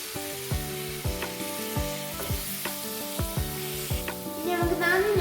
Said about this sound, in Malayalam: അതിലേക്ക് നേരത്തെ ഉപ്പ് ഇട്ട് മിക്സ് ചെയ്ത് വെച്ച ചെറുനാരങ്ങ അതിലത്തെ നീരോട് കൂടി ഒഴിച്ചു കൊടുക്കാം.